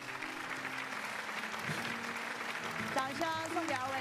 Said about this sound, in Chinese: 掌声送给二位